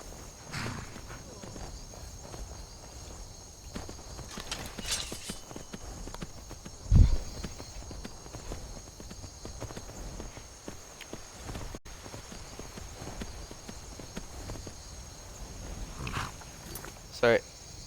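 Horse hooves clip-clop at a steady walking pace in the video game Skyrim, soft and fairly close, running under game ambience with a couple of brief louder knocks.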